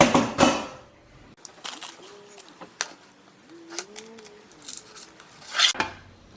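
A no-bake Tim Tam cheesecake is popped loose from its greased pan, with clattering knocks at the start and again near the end and a person talking in between.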